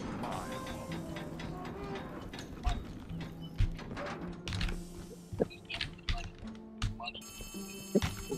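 A phone rings in the video game Poppy Playtime Chapter 3. Faint ringing tones sound over muffled background hum, thuds and clicks, with someone talking throughout.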